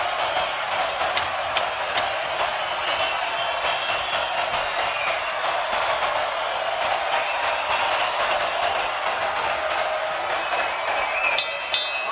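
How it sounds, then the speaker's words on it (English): Boxing arena crowd in Macau at a Pacquiao–Rios fight, a steady roar of cheering that holds broadly level throughout, a continuous wash of many voices with a few sharper whistles and clinks near the end. "They're on their feet in Macau."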